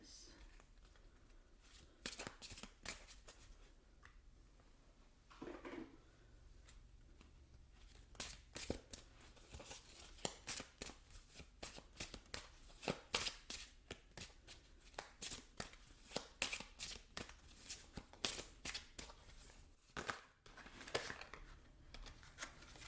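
Romance Angels Oracle cards are shuffled close to the microphone in a soft, quiet session. Riffles, taps and crisp card snaps repeat at an irregular rhythm for over twenty seconds.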